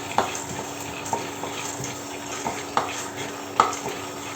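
Pulses fry in a pan on an induction stove, a soft steady sizzle broken by sharp scraping clicks of a wooden spatula against the pan every second or so, fairly close and moderately quiet.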